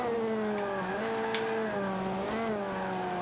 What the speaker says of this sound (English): We've got some nice meaty engine sounds in this game